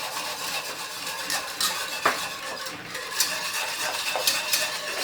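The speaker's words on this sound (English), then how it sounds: "I'm just using my whisk. I just whisk it." Sugar being whisked into a sweet and sour sauce for Caribbean sweet and sour chicken, a steady close scraping and clinking of the whisk against the bowl with a few sharper metallic taps.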